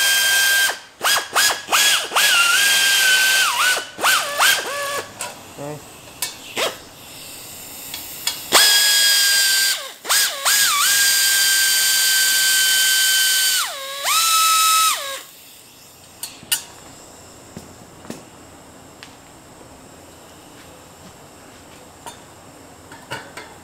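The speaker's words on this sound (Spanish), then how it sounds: "vamos a quitar esto con estos dos tornillitos Allen que están acá" Power tool backing out two Allen screws from a sport muffler on a Subaru Impreza fitted with a dual 2.5-inch exhaust in a muffler shop, giving several loud whirring bursts with rising and falling pitch, then quieter clicks and clatter.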